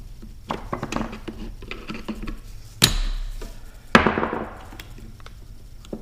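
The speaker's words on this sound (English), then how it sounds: "You can take a flathead screwdriver and kind of pry it up." A flathead screwdriver pries at a carburetor part on a Stihl chainsaw: light scraping and tapping close up, broken by two sharp snapping clicks as the piece pops loose.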